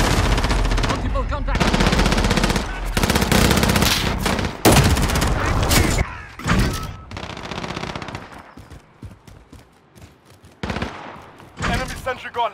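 Rapid automatic gunfire from an enemy sentry gun in a Call of Duty game, loud sustained bursts and overlapping shots that thin into scattered cracks and brief pauses, with game voices mixed in.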